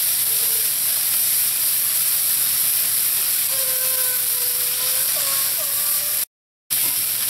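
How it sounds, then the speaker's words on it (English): Tomato paste sizzles in a hot pan, giving a steady, close, broadband hiss that runs unbroken except for a brief dropout near the end. "Let the tomato paste cook in here for about 2 minutes."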